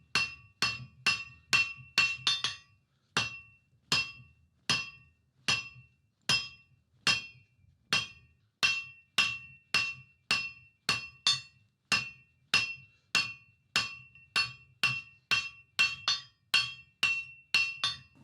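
A blacksmith hammers hot iron to draw down a square taper on a fireside tool, striking in a steady rhythm of roughly thirty sharp ringing anvil blows, close and isolated with quiet gaps between.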